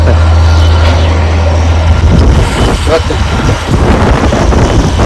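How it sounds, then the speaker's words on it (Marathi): Strong wind roars and buffets the microphone in a constant low rumble, loud and close throughout. "खूप जोरात असं वारं सुटलेलं आहे मित्रांनो"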